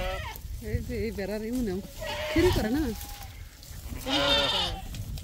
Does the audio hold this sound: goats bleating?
yes